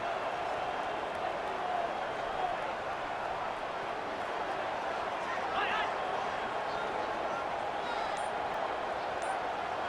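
Stadium crowd at a college football game in EA Sports College Football 25, Cincinnati versus Tulane, roars steadily through a big third-down play, a dense continuous wall of cheering with a faint whistle-like burst midway.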